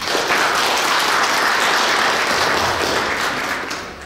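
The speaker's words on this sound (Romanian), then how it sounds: "Și pe fiecare vă rugăm să-i aplaudăm." Loud, dense audience applause for couples at a golden wedding anniversary celebration held at a town hall, sustained and even before tapering off at the end.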